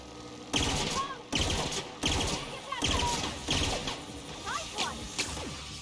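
Weapon fire in the sci-fi video game The Outer Worlds, several sharp bursts spaced about a second apart with mechanical clatter between them, loud and close, with a voice faintly underneath.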